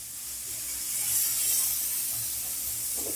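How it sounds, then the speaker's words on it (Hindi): Masala spices frying in a pan for a dhaba-style egg curry with a little water added, giving a steady soft hiss and sizzle at moderate level, with a brief faint clatter near the end. "थोड़ा थोड़ा पानी डालकर हम मसाले को अच्छे तरीके से भूनेंगे।"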